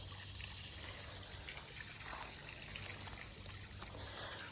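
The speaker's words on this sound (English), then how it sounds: "So the water coming out of it is not super fast, but it is steady." Water trickles steadily out of a pipe at a homestead lake, a soft continuous liquid patter that stays quiet and even throughout, with no talk over it.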